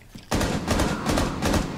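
In Rainbow Six Siege, gunfire erupts after a brief quiet moment and turns into a loud, close burst of rapid automatic shots with sharp cracks repeating in quick clusters.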